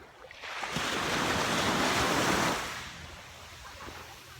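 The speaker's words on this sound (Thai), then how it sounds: "นอนฟังเสียงคลื่นทะเล" A single ocean wave surges in and washes over Laguna Beach in Phuket, Thailand, swelling to a broad roar before fading into a soft hiss, with no voices.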